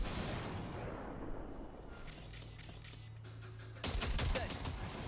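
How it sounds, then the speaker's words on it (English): In Cyberpunk 2077, a short burst of gunfire rips into a pile of junk, sharp cracks arriving near the end after a quieter stretch with a low hum, loud and close. "Fire a short burst into it."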